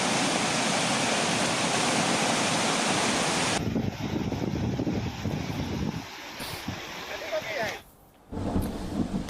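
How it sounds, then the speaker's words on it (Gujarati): Tapi river in flood after heavy rain, a loud broad roar of rushing water for several seconds, then quieter churning with voices, briefly dropping away near the end. "ભારે વરસાદથી અનેક નદીઓમાં ઘોડાપૂર આવ્યું છે।"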